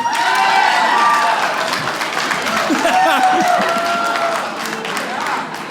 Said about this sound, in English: clap if you think you're the smart person in your relationship.